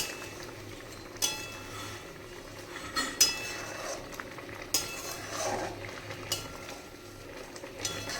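Prawns being stirred in a pot once the lid is off: quiet scraping and occasional sharp clinks of a utensil against the metal pot over a faint background sizzle.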